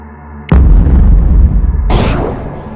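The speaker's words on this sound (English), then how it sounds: "someday Uranus could just explode" A loud, sudden explosion of the planet Uranus, a deep booming blast that rolls on for over a second and then swells again with a hissing roar before fading.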